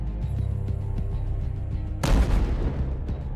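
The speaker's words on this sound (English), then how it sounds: "The drone enters the building through the glass and blows itself up with the high explosives it carries." A drone carrying high explosives detonates inside a building, a sudden loud broadband blast about two seconds in, following a stretch of low rumbling and scattered impacts, with a rough rolling tail afterward.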